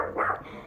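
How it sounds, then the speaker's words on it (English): A single short, close dog bark, sharp and fairly loud, with nothing else around it. "that's my dog"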